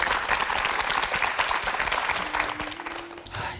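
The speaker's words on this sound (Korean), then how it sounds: "여러분 뜨거운 박수 한번 좀 보내주시겠습니까?" Sustained audience applause, dense clapping from a crowd that stays loud throughout and eases slightly near the end.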